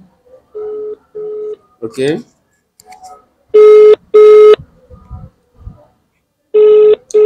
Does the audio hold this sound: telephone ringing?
yes